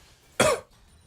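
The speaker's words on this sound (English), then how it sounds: "I coughed" A single sharp cough from a person bursts out once, close and loud against a quiet background, then fades quickly.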